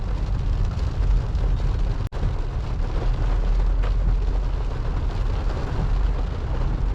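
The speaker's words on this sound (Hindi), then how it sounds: "इसी के साथ बारिश शुरू हो चुकी है" Heavy rain pours on a moving car while driving, a dense steady wash of noise with low road rumble underneath, broken once by a brief sharp knock.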